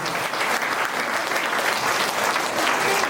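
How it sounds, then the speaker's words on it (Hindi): Applause from a hall audience at a marketing-plan training session, dense steady clapping from many hands sustained at an even level throughout, with no break. "सभी डायमंड के लिए ताली होनी चाहिए"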